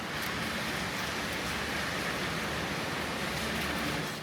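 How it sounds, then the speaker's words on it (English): Hail falling during an afternoon thunderstorm in Mexico City, a dense continuous hiss and patter at even loudness throughout, with no voices. "that's when the hail started"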